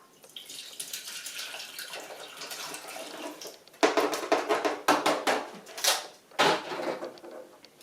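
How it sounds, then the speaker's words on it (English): Turkey pan drippings pour from a roasting pan into a pot to be made into gravy, a close liquid splashing and trickling that runs steadily, then breaks into several louder gushing bursts toward the end. "I am literally going to take this whole thing"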